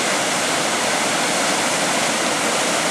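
The Colonzel waterfall on the Lez river in flood, a loud, unbroken roar of rushing water heard close up without a pause.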